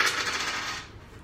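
Dice roll and clatter on a tabletop during a tabletop game activity, a short rattling burst that trails off, fairly quiet and alone with no talk.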